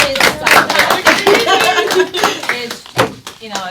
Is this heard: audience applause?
yes